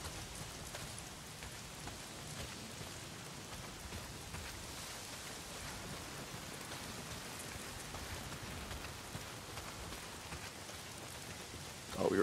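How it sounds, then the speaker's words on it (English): Heavy rain pours down steadily in the video game Days Gone, a dense, even hiss of drops with no letup, heard alone without voices. "Well, not if it's pissing down rain."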